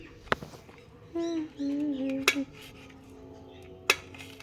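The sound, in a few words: cutting grapes with a knife on a plate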